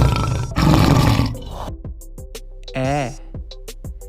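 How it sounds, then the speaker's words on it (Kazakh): A lion's roar, loud and rough, fills the first second and a half, followed by a shorter tonal call and a series of sharp knocks with quieter gaps between them. "Арыстан."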